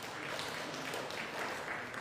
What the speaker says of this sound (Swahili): Jipigeni makofi mengi sana.